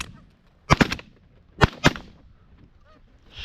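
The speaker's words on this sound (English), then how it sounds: "we both shot that last one at the same time" Shotgun blasts go off in a Manitoba corn field during a goose hunt: two pairs of loud, close, overlapping booms. Each blast rings out briefly, and the quieter spells between them are nearly empty.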